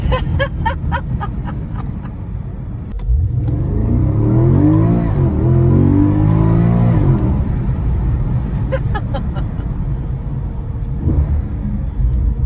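After a few quiet seconds, a Porsche Panamera GTS engine in Sport Plus surges into a loud accelerating roar, heard with windows slightly open, rising in pitch for several seconds, then easing back to a low rumble.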